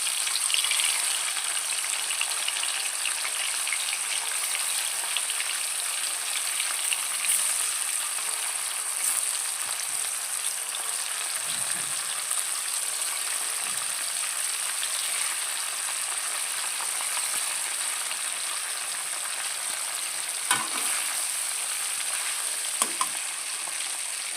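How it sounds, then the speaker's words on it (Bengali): Paneer fries gently in oil in a pan over low heat, giving a steady, even sizzle throughout with occasional faint clinks of a spatula. "পনির ভেজে নেব। যাতে পনিরটা না পুড়ে যায়, হালকা হালকা ভাজা হবে।"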